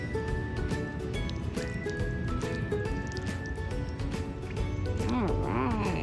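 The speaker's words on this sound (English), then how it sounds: "Some water is spilling out." Water trickles and drips from a child's watering can onto garden plants and flowers, a light wet patter with soft splashes close by, while a voice talks briefly.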